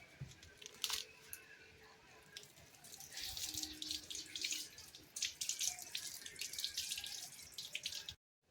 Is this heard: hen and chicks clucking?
no